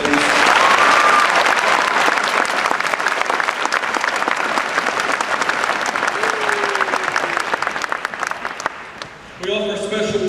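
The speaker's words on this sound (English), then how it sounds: "Let's give them a round of applause, please." Dense, sustained applause from a large audience at a high school graduation ceremony fills nearly ten seconds, then drops off abruptly near the end as a different sound cuts in.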